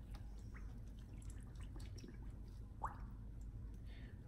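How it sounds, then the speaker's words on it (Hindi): Whole chicken lowered into a bowl of salted brine for a Lahore-style roast: scattered soft drips and wet squelches, one brief sharper slosh midway, all fairly quiet over a steady low background rumble, with no talking. "इस चिकन को इस तरीके से इसमें डबो देना है"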